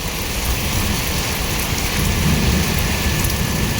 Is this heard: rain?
yes